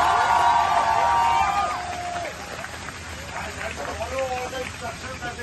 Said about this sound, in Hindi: एक बार जरा इंडियन एयरफोर्स के लिए जोर से ताली बजे।